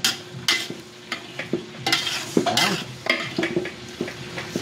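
Pork marinated in soy sauce, calamansi and pepper sautéing in a pan, a steady sizzle broken by repeated scraping stirs of a utensil against the pan, close and lively with no talk.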